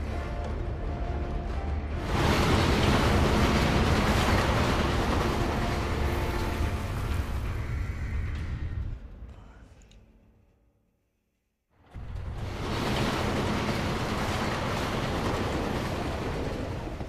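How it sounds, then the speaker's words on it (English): A train runs in the Resident Evil 2 Remake video game with a loud, steady rumble. It drops briefly to near silence, then resumes at full strength, with no voices. "She even knows how to operate a train."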